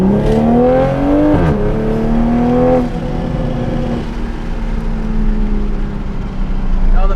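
A car engine pulls hard under acceleration, loud and close, its pitch climbing through the gears with a break at each shift before the revs build again.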